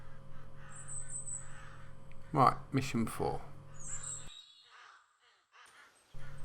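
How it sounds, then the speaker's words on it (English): Crows caw in a Rocky Mountain hunting game, a cluster of harsh, fairly close calls in the middle with someone speaking briefly before them, set against a quiet background hum. "I can hear some crows behind me somewhere."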